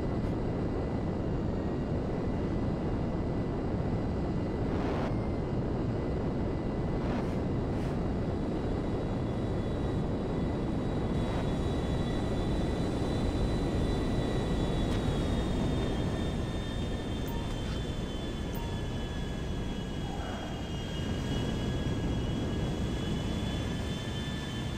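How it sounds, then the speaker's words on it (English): A Lazer jet fighter in GTA 5 gives a steady, loud engine roar that stays constant for the whole stretch, with a faint high whine gliding slowly downward partway through and no voices. "you got to steal it if you want yourself a jet fighter airplane"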